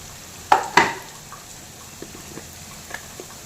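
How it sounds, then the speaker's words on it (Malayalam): Turmeric, pepper, coriander and chili powders being sautéed for a cauliflower dish, with two sharp scraping stirs of a spoon in the pan early on, then faint quiet sizzling and occasional light clinks. "ഇത് 2 മിനിറ്റ് നേരം പച്ചമണം മാറുന്ന വരെ നമുക്കൊന്ന് വഴറ്റിയെടുക്കണം"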